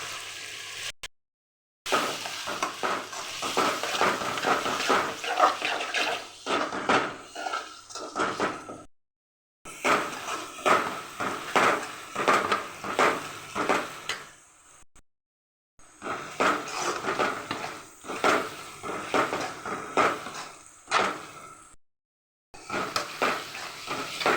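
Bitter gourd fry with chilli powder being stirred in a pan, steady scraping and sizzling in repeated rhythmic bursts separated by brief silent gaps.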